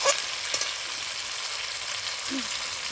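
Chicken fried rice with pre-fried potatoes sizzles steadily in a pan, a continuous hiss with a few soft stirring scrapes and no talking.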